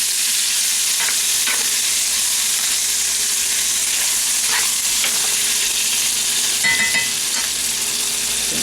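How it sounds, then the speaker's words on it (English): Tomato paste being stirred into lasagna sauce in a hot pan, a loud, continuous sizzle and hiss with soft scraping strokes of a spoon running through it, no talking. "the tomato paste is kind of optional. It just makes it a little bit thicker. Stir that together."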